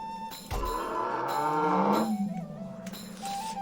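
A cow in the video game South Park The Stick of Truth lets out a long, drawn-out moo that rises and falls, clear and close, with short game sounds around it and no talk.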